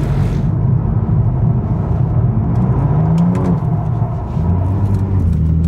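A BMW M3 being driven in a drift, heard from inside the car as a loud, continuous low engine roar with road rumble and a few sharp tyre or mechanical squeaks, no talk.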